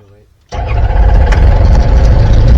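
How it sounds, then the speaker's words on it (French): A Savannah three-axis ultralight aircraft engine starts after a quiet moment with a brief voice, catching abruptly and settling straight into a loud, steady, close-up running drone. "Je mets en route le moteur."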